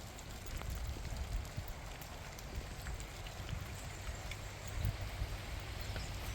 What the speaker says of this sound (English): it's just started really raining